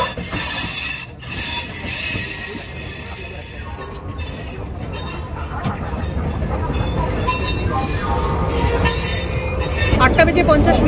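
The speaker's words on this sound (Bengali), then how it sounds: "আটটা বেজে 50 মিনিট হাওড়ার 12 নম্বর প্ল্যাটফর্মে ঢুকছে অগ্নিবীণা এক্সপ্রেস" The Agniveena Express pulls into platform 12 at Howrah station, a loud continuous rumble of rolling wagons with wheel squeal and rhythmic rail clatter that builds toward the end.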